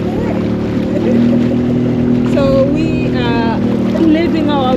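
A steady, droning catamaran motor hums continuously on the water in the Caribbean while people talk over it.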